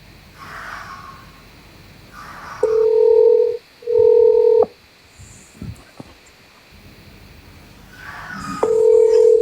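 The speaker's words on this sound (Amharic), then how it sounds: "እየጠራ ነው። ስፒከር ላይ ላድርገው።" A phone call on speakerphone rings out in repeated long electronic tones, each burst about a second, with quiet room noise and faint rustling in the gaps between rings.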